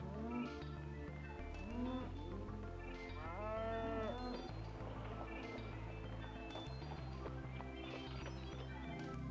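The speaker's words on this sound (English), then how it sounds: "Here's where you'll find gauchos at work, herding cattle." Cattle on the Pampas plains, worked by herding gauchos, moo repeatedly in long, drawn-out calls that overlap one another, loud and close over a steady low background.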